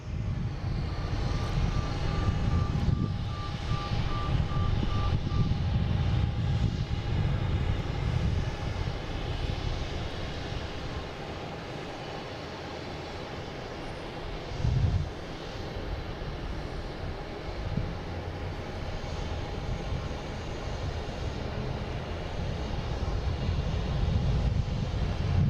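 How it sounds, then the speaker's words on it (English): An Embraer Phenom 300 business jet taking off at Boston Logan International Airport, a steady, loud, broad jet roar that holds for the whole stretch with only slight swells, with no voices over it. "they got clear for takeoff. This is a Embraer Phenom 300."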